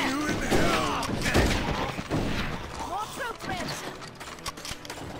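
Gunfire in the Western shooter Red Dead Revolver, scattered shots and impacts mixed with game music and effects over several seconds while a voice talks throughout.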